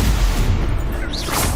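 Confringo blasting spell from Hogwarts Legacy: a loud, rumbling burst that goes on through the whole moment, with a short whooshing swirl near the end.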